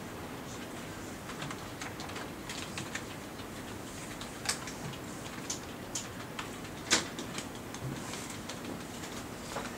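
Typing on a computer keyboard in a classroom, scattered key clicks at an irregular pace with a few sharper taps, over steady room noise and no talking.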